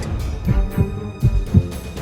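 A heartbeat sound effect from an animated monster battle beats as a steady, deep, muffled thump roughly every half second, loud and close under a low droning hum.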